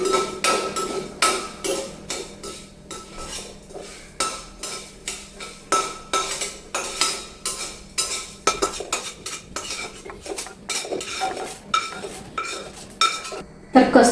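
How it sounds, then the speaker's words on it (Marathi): Fenugreek seeds roast in a pan for a homemade masala while a utensil stirs them, making quick, repeated metallic scrapes and clinks up close that come faster toward the end. "आपल्याला मेथी दाणे भाजून घ्यायचे."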